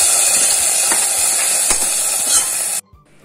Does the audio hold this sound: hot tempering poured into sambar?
yes